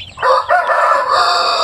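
A Shamo Aseel rooster crows loudly and close by, one long drawn-out call with a rising start and a sustained, slightly raspy tone.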